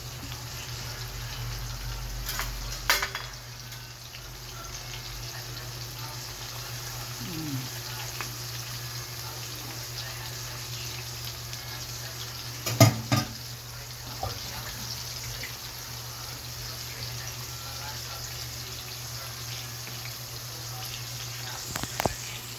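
A pork chop coated in chicken breading frying in oil, giving a steady low sizzle throughout with a few brief clanks and taps standing out over a constant hum.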